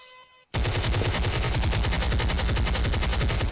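Loud, rapid gunfire bursts in after a brief pause, a continuous automatic rattle of shots that keeps going without letup.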